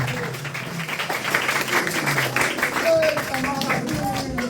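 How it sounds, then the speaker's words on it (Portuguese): A church congregation applauds in a sustained burst of clapping, close and moderately loud, with voices speaking over it. "Aplausos a Jesus mais uma vez, por favor."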